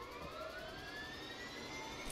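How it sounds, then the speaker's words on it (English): A helicopter spools up for takeoff in a video game: a steady, fairly loud turbine whine with slowly rising tones over a broad rushing roar, with no voices. "Helicopter's taking off."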